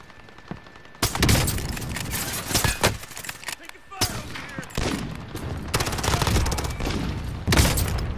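Suppressed SPR 208 rifle fire in Call of Duty MW, loud dense bursts of in-game gunfire starting after a quiet opening second and continuing in rapid volleys with brief gaps, with talk mixed in.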